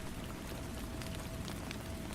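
Gentle steady rain patters on a surface in a continuous soft hiss with scattered drops, faint and even, and no voices.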